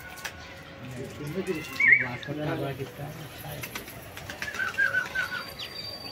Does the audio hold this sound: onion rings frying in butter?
no